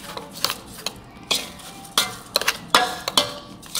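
Chicken nugget ingredients with sauce and vinegar mixed in a bowl: a series of close scraping, clinking strokes in irregular rhythm, utensil knocking against the bowl, with no voice.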